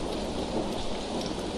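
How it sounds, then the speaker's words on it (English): Heavy rain pouring down in a steady, dense wash of noise, loud and close with no pauses, as a light drizzle turns into a downpour. "already the drizzle has turned into a downpour"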